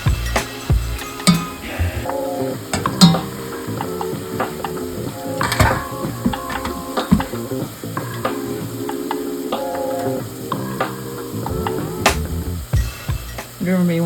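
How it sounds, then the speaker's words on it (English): Jamaican festival dough frying in deep oil, a steady crackling sizzle with scattered clinks and scrapes of a utensil against the pan, close and fairly loud throughout. "just flatten it out a little bit as I put it in so that it fries more evenly"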